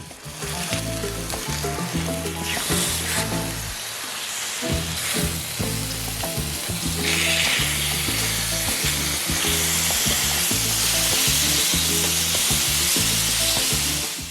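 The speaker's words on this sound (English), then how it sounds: "add some olive oil and sear the steak on both sides until brown" Steak sears loudly in olive oil in a deep sauté pan, with a steady bright sizzle throughout. A low rhythmic hum runs beneath it, and the frying swells stronger toward the end.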